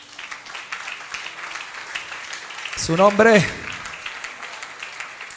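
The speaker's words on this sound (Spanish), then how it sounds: "Denle un aplauso al Señor." A church congregation applauds during a Holy Week service, with soft, steady clapping throughout and a voice speaking briefly over it midway.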